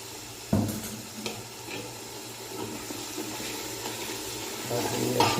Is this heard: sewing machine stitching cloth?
no